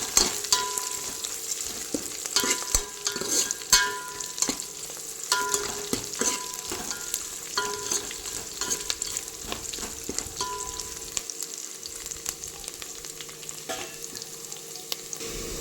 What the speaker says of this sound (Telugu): కరివేపాకు, కొంచెమంత కొత్తిమీర వేసుకొని ఇవి కూడా మంచిగా కలిసేసి మంచిగా కలుపుకోవాలి